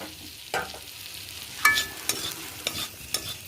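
Potatoes fried with turmeric and chilli powder are stirred in a pan, a low continuous sizzle with several sharp scraping clinks of the utensil spaced irregularly, close and without talk.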